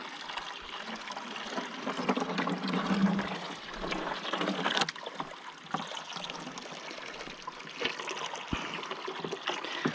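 A 1/3 hp Little Giant submersible pump fills a 5-gallon bucket with water, giving a steady close trickling and splashing stream with occasional knocks and clatters, no talking.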